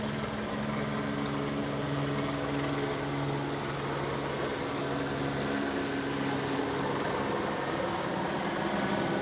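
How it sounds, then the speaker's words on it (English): A helicopter passes overhead as a steady, continuous rotor drone with a low throbbing hum, holding at a constant moderate level throughout with no talk. "Hello, helicopter."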